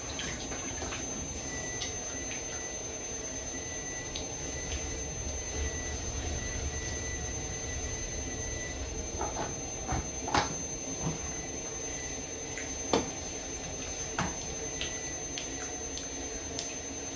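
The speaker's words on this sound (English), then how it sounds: "Now I've got the ball spinning roughly centrally" Pottery wheel turning steadily while a ball of clay is centered on it, a continuous low whir with faint wet rubbing and occasional small clicks, fairly quiet throughout.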